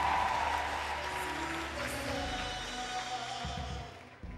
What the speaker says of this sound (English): Big round of applause to Nancy!